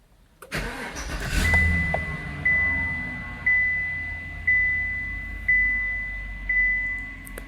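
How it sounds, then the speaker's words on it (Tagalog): A Chevy car engine cranks and fires, then runs with a rough idle while a chime beeps at a steady, roughly one-second pace, recorded close. "So, engine start."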